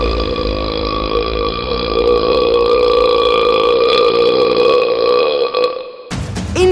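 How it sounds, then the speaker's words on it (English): A loud, long, drawn-out belch that rumbles on for several seconds before cutting off abruptly. "eventually it let out a tremendous belch"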